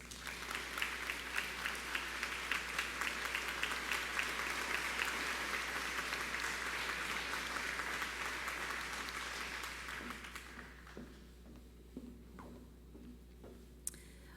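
Audience at a nursing pinning and commencement ceremony applauding the 2021 ADN and PN graduates, a sustained round of dense clapping for about ten seconds that then thins out to scattered claps.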